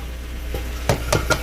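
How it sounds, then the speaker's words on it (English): Popcorn kernels popping in hot oil, a few sharp separate pops spaced out over a low steady hiss, close and fairly loud. "as my popcorn is popping"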